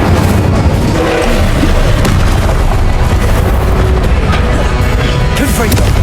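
An Incendio fire spell is cast in the video game Hogwarts Legacy, producing a loud, dense, sustained roar of blasting noise with busy combat clatter throughout.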